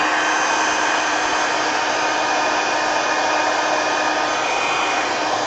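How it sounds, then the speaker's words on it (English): A small heat gun, much like a little hairdryer, blows hot air in a steady, loud, unbroken whoosh for the whole stretch, softening a surface with no voices over it. "I have a little heat gun here that's basically a little hairdryer."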